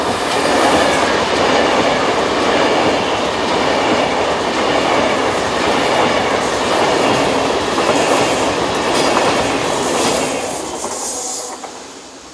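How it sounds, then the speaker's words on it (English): An ETR 470 passenger train rushes past at close range, loud steady rumble with wheel clatter and a faint squeal, fading off over the final couple of seconds. "ETR 470 train sets are regular performers along the line"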